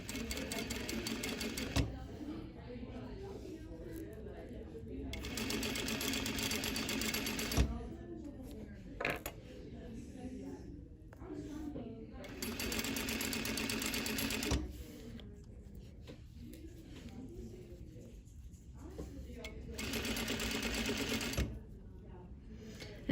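An industrial sewing machine stitches an invisible zipper in several rapid, humming bursts of a few seconds each, separated by pauses where a person talks quietly nearby.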